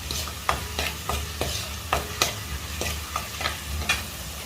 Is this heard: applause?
no